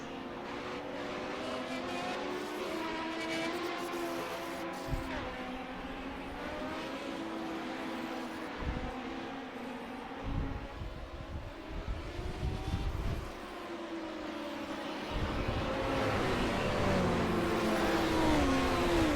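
Race cars in the iRacing video game run at Monza behind the pace car, producing a steady, moderate engine drone with revving swells and no talk.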